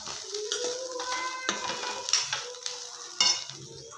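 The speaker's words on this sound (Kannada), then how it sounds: "ಬನ್ನಿ ಇವಾಗ ಇವು ಹುರಿದಿದ್ದಾವೆ ಕ್ಯಾಬೇಜ್ ತೆಗೆದುಕೊಳ್ಳೋಣ ಒಂದು ಪ್ಲೇಟಿಗೆ ಅಥವಾ ಒಂದು ಬೌಲಿಗೆ" Fried cabbage palya, North Karnataka style, scraped and scooped from a pan onto a plate, with a run of close, busy metal scrapes and clinks over a light sizzle, a few sharper knocks standing out.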